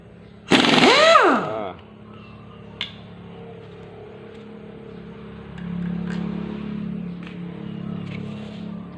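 An air impact wrench removes the wheel hub on a Kubota tractor, firing one loud rattling burst of about a second, followed by a quiet workshop with faint voices.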